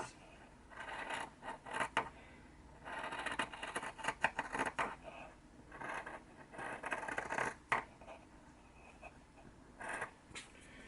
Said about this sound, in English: So let's flip this over, and we are going to just slightly trim this.